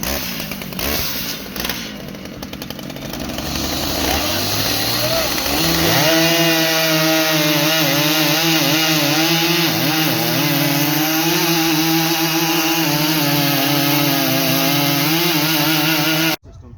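A big professional chainsaw, a Husqvarna 3120XP or Stihl MS881, cuts through wood with a loud, sustained roar that steadies into a full-throttle bite mid-cut and then cuts off abruptly near the end.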